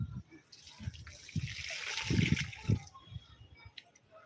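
Water trickles and splashes in bursts as potted plants are watered, with a steady pour rising and falling over a few seconds, close by and moderately loud.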